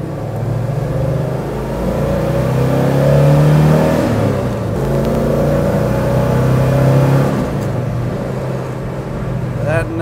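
A 1970 Chevy Chevelle SS 454 with a 5-speed gearbox revs through its gears, a deep, steady engine drone rising and falling as it shifts, loud and continuous throughout, with a voice speaking over it.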